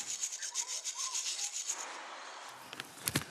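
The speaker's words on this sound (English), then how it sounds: "Now remove all the loose rust or paint with a wire brush." A wire brush scrubs loose rust and paint off a metal fence in steady, rapid back-and-forth rasping strokes, close and fairly loud, easing off partway before a few sharp knocks near the end.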